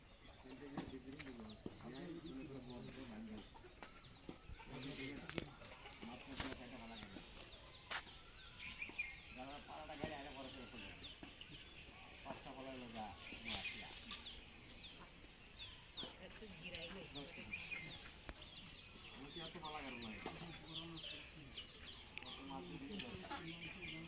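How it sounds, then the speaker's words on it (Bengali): Native chickens and a rooster cluck and call around a rural home yard, scattered short bursts heard under near-continuous conversation. "এই যে বড় যে মুরগাটা দেখা যাচ্ছে বা মোরগটা"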